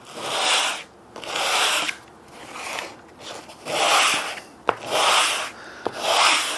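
Abrasive scratching on a wooden mating surface being roughened for glue while building a native stingless bee box: six rhythmic back-and-forth rubbing strokes, close and fairly loud, separated by short pauses.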